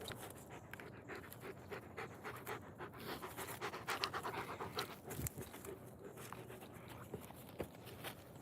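Dog panting steadily and rhythmically close by during a morning exercise session, with faint shuffling and movement around it and no talk.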